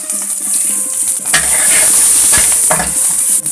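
Chopped garlic and ginger sizzle steadily in a hot pan for a restaurant-style chilli chana, with bursts of stirring and scraping over the continuous frying hiss, close and loud, no talking.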